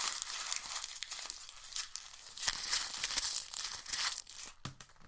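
Paper being torn and crumpled close to the microphone, a run of crinkling, ripping bursts that comes and goes in uneven waves.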